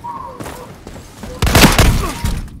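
Gunfire in a custom multiplayer match, first a few faint scattered shots, then a loud close burst of rapid fire with booming impacts, with some voices in the background.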